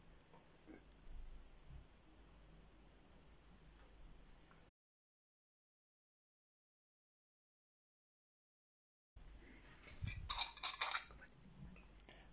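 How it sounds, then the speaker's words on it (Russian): Freshly cooked semolina porridge is ladled from the pot onto plates, a few bright clinks of a ladle against dishes sounding close by after a stretch of near silence. "Сейчас будем разливать по тарелкам."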